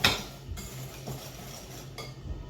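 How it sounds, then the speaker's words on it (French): A utensil clinks and scrapes against a bowl while sugar is stirred into galette batter, a few close metallic knocks over soft swishing, with no voices. "Je commence à tourner."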